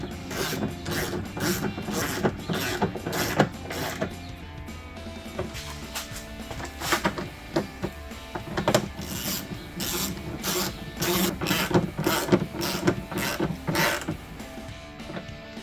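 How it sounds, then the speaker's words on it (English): A ratchet snugs 10mm bolts on the hood scoop of a RAM 2500 during a cold air intake install, giving rapid, close clicking bursts broken by short pauses and faint metallic rubbing. "reinstall the 10mm bolts. Snug up with a ratchet."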